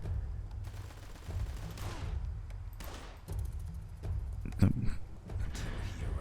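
Gunfire in the video game Blues and Bullets, scattered bursts of shots and thumps over a steady background, with a person talking at times.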